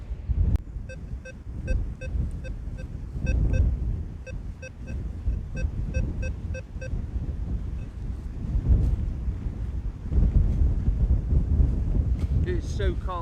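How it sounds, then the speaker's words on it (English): Cold, gusty wind buffets the microphone outdoors on rainy grounds during metal detecting, producing low rumbling blasts that rise and fall, with faint repeating electronic beeps from a detector in the background. "It's so cold, windy, trying to rain."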